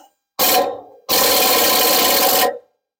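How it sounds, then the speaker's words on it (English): Impact wrench spinning on a stubborn trailer bolt, two loud sustained bursts of whirring and rattling, a short one then a longer one of more than a second, close by with no talk. "so option 2 is the impact wrench there"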